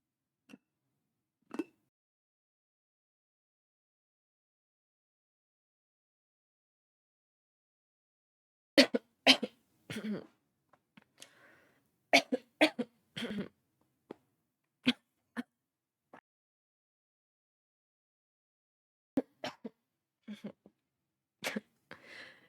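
Coughing fits after inhaling water, sharp bursts of coughing in short clusters separated by long silences, close and fairly loud, with no talk.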